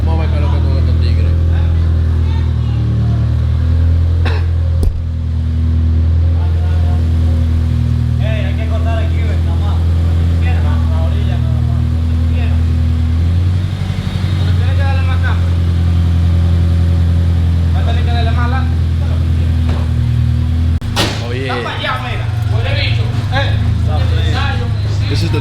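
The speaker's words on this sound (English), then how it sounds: "This is the Turbo Civic right here." Turbo Honda Civic engine running close by, a steady low idle rumble with occasional revs and a louder surge near the end, while people talk over it.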